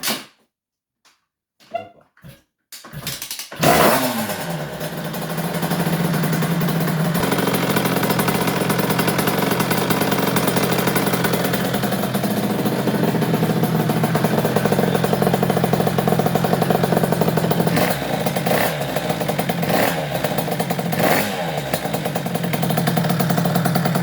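A motorcycle engine is kick-started with a few sharp mechanical thumps, catches, and settles into a steady, loud, continuous idle that runs close by on its own without talk.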